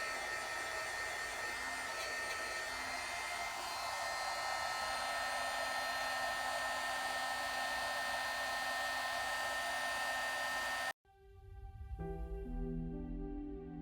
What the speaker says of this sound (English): so I can use my heat gun without burning myself. Let it heat up first.